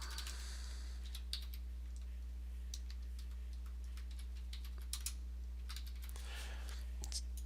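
Close keystrokes tap unevenly on a computer keyboard while text is typed out, light clicks coming in short bursts over a constant low electrical hum.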